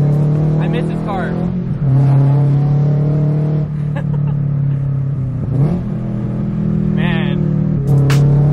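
A Subaru BRZ drives along with a loud, steady engine drone close up, rising and falling as it shifts through gears, while people talk inside the car.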